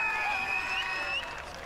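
Crowd applause and cheering for a boys' schools rugby team's haka at a world schools rugby festival, a steady dense wash of clapping that eases slightly toward the end, with no talk over it.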